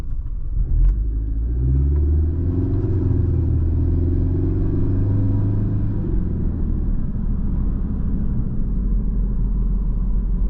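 A 2005 Mercedes-Benz C230 Kompressor W203 drives along a residential street, its supercharged engine rumbling and rising in pitch as it accelerates through the gears, heard steadily from inside the cabin with no talk.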